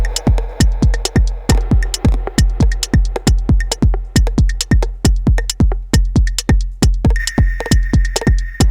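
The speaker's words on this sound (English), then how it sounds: "Surprise, it's all drum samples" Techno drum samples from a multi-track sample pack play back on an OP-XY sampler: a steady four-on-the-floor kick pounds loud and alone, with hi-hat ticks and a sustained high tone creeping in near the end.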